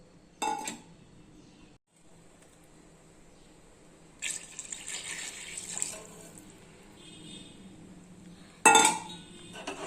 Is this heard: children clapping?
no